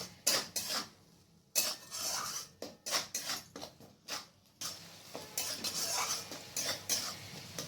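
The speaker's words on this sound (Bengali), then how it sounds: "এরপর আমি ভালো করে মিক্স করে নেব যতক্ষণ না পর্যন্ত টমেটোর কাঁচা স্মেলটা চলে না যায়" A spoon stirs tomatoes with salt in a cooking pan, sounding as a run of close, irregular scraping and clinking strokes with brief pauses and a soft sizzle beneath.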